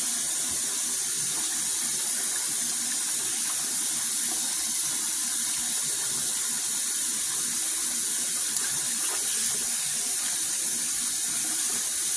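Tap water runs steadily into a sink while raw chicken drumsticks are rinsed, a constant close hiss and splash with no talk over it.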